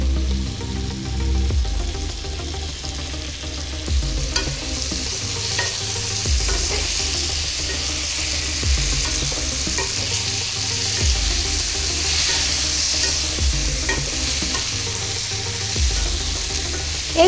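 Vegetables and eggplant pieces fry in a pan for a fish curry, a loud continuous sizzle broken by repeated scraping stirs of a utensil, with no talking.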